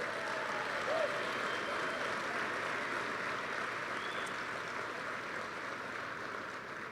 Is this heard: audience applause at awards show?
yes